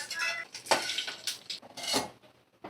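A spoon scrapes and clinks against a pot while fried coconut and curry leaves are lifted out and moved to another vessel, with several quick metallic knocks and scraping strokes at close range.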